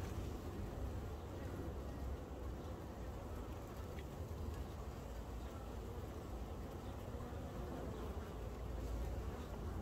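Honey bees buzz around a nearly swarming top bar hive while it is being split, a dense, continuous drone that stays close and steady throughout with no pauses.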